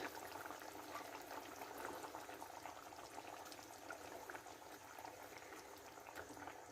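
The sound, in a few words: curry paste simmering in pot with pomfret fish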